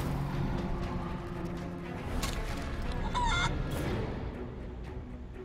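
Chicken clucking in the fantasy role-playing game Divinity: Original Sin 2, a few short squawking clucks over a steady bed of game ambience and effects.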